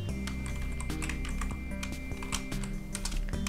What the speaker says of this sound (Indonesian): Kita ketikkan perintah untuk menampilkan